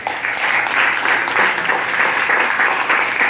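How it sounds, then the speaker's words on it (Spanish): A church congregation applauds in a steady, dense wash of clapping that fills the whole moment, loud and continuous with no break. "Regale un fuerte aplauso al Señor."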